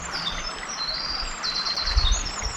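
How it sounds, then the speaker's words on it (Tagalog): Several birds chirp and trill in overlapping high, thin phrases over a soft outdoor hush, with a faint low rumble now and then. "Ang ganda ng tunog ng mga ibon."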